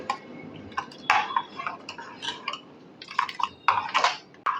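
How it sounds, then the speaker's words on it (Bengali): A spoon taps and scrapes inside a pot as mango pulp is stirred into milk, making irregular light clinks and ticks, close and fairly quiet with no voices. "আম আর দুধ আমি কিন্তু একসঙ্গে মিলিয়ে দিচ্ছি এই চামচটা দিয়ে"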